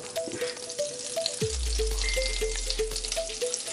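Salmon fries in a pan with a steady, close sizzle and crackle, while brief clinks and a low hum rise in the middle and then fade.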